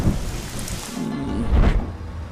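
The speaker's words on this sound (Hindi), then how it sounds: "बारिश पसंद है तो फिर बारिश में भीगो।" Steady rain falls with a low rumble of thunder swelling about midway, a continuous wet hiss filling the short stretch with no voices.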